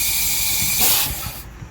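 Soda bottle opened on the road, giving a broad fizzing hiss that swells and peaks briefly near the middle, then fades into quieter background noise; no voices.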